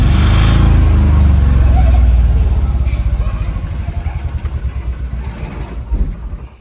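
A car engine runs loudly while the vehicle is driven through a gate into a parking spot, rumbling steadily, then easing and softening into uneven low putters as it slows to a stop.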